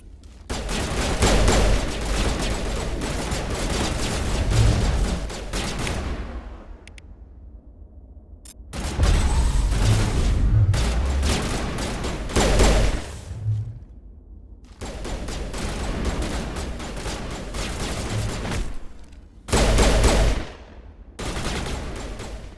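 A firefight in the video game Mass Effect erupts into loud, sustained bursts of automatic gunfire, broken by short lulls of near silence before the shooting resumes several more times.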